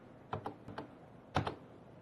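Computer keyboard keys pressed while entering company details in Tally Prime accounting software, a few quick isolated clicks followed by a tight double tap, close and fairly quiet with no talking.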